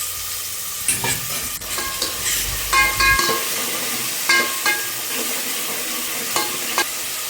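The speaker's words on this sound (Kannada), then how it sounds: "ಬೇಳೆ ಒಂದು ಸ್ವಲ್ಪ ಫ್ರೈ ಆಗ್ತಾ ಇದ್ದಂಗೆ" Lentils frying in hot oil with asafoetida, mustard seeds and curry leaves, a steady close sizzle broken by repeated scraping stirs and clinks of a spoon against the pan, with no voices.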